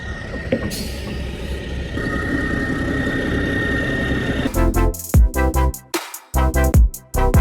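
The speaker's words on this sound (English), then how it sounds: "With that truck leaving, that obviously spells that this is finally on the ground" A rollback truck's engine drones steadily nearby as it pulls away, then the sound turns choppy with loud, broken bursts toward the end.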